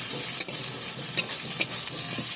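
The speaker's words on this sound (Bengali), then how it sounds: "তো এবার আমি এর মধ্যে দিয়ে দেবো শুকনো লঙ্কা বাটা। তো এটাকে দিয়েও ভালো করে নেড়ে চেড়ে নেবো।" Dried red chilli paste fries with garlic in a pan, sizzling steadily while a spoon scrapes and stirs in a few sharp strokes.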